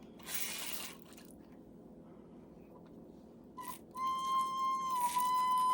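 A Dollar Store pressure sprayer used for watering seedlings gives a short hiss of spray, then a thin, steady whistling tone with a quick sputter before it settles into a continuous whistle.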